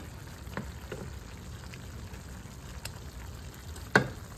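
Butter and sugar caramelize in a pan while shrimp is being cooked, giving a steady, close sizzle with occasional sharper pops and spatters and no talking.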